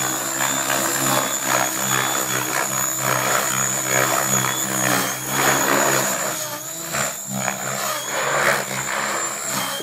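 An electric hobby model helicopter flies close by, its rotor and motor giving a loud, continuous whirring buzz that swells and dips slightly as it maneuvers, with no voices.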